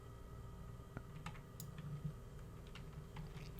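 Keys on a computer keyboard are pressed during 3D modelling work, producing sparse, light clicks scattered over a quiet hum, faint and irregular rather than rapid typing.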